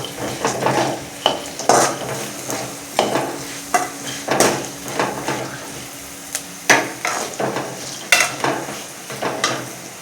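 Chili powder mixture stirred in a pan for spicy puffed rice, with repeated close metallic scrapes and clinks of a spoon against the pan over a soft sizzle, loud and irregular.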